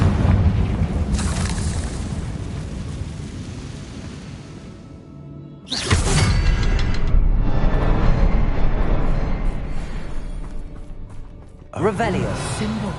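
Confringo fire spell blasts in Hogwarts Legacy: loud, booming bursts with sharp onsets near 0, 6 and 12 seconds, each followed by a rumbling, crackling tail over dense game sound and music.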